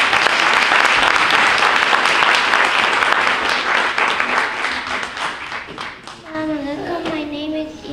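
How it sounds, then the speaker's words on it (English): An audience at a community Ramadan program claps loudly and continuously for several seconds before the applause thins and fades, and a young voice then starts speaking over the tail end. "Please welcome her with a big round of applause."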